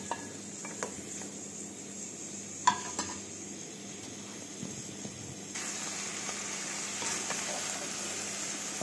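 More than a kilo of onions sizzle and fry in a pan on the way to golden brown, a soft steady crackle with occasional clinks of stirring and a brighter burst of sizzling late on.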